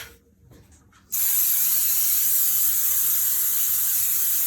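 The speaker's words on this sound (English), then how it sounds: "So let me get my cooking spray." After a second of quiet, a loud continuous aerosol cooking spray hisses steadily until the end, close and unbroken.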